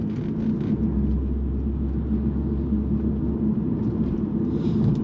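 A BMW 330Ci E46 with a six-cylinder engine and manual gearbox, heard from inside while driving on a road: a smooth, steady low engine hum and road rumble, constant throughout, with no talking.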